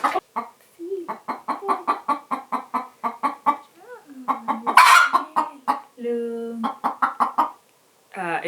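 A chicken squawks and clucks rapidly and agitatedly during a claw trim, close by, in a long run of loud calls with a few short pauses.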